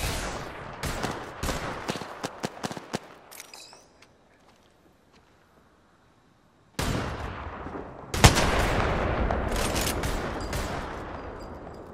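Rapid bursts of gunfire in the video game Apex Legends, dense shots for about three seconds, then a lull, then heavy sustained firing returns loud and close.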